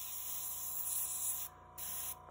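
An airbrush being cleaned sprays out leftover paint and thinner in a steady close hiss, cutting off briefly and then resuming, with no voices.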